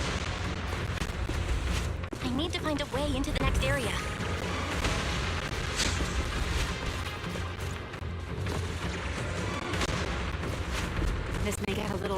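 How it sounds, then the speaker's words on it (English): Explosions in the video game Zenless Zone Zero sound as repeated heavy booms and crashing bursts in a dense, continuous mix, with a character speaking over the action. "Explosions are becoming more frequent."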